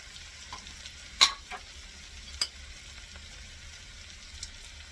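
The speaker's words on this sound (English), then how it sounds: "my flour is browning on the bottom of my pan" Flour browns in a hot pan with a faint, steady sizzle, broken by a few sharp scraping clicks as it is stirred.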